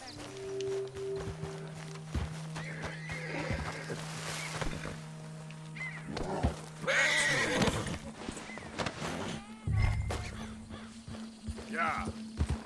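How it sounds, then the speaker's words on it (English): Horse neighing and whinnying with hooves clip-clopping in Red Dead Redemption 2, a western video game, with game music and someone speaking over it at times. "Ah, pinche caballo."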